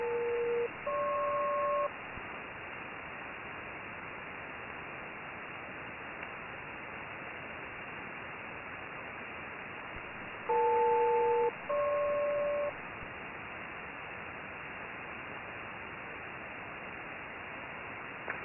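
SELCAL check tones sent over HF radio to an aircraft during oceanic air traffic control, heard as two pairs of steady dual tones, each about a second long, sounding over a constant hiss of radio static.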